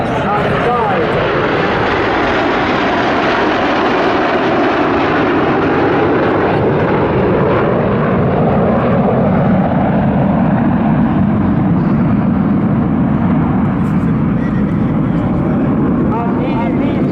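Red Arrows aerobatic jets roar past at a seaside airshow, a loud continuous engine rush with a swelling, shifting whine over the whole stretch as the formation flies by.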